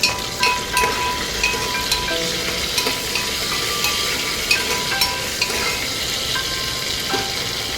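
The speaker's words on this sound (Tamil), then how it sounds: "இதை நல்லா எண்ணெயில் வதக்கி விட்டுக்கோங்க." Washed curry leaves sizzle and crackle in hot oil, a steady close frying hiss with small pops and occasional stirring scrapes, no voices.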